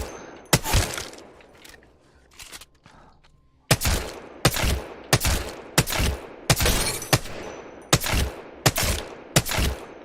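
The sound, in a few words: gunfire in Apex Legends aim practice, video game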